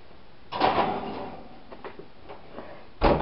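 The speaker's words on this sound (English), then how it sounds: "Open the door." An oven door being opened in a home kitchen: a clunk and creak at the start, a few small clicks and rattles, then another sharp knock near the end, fairly close and otherwise quiet.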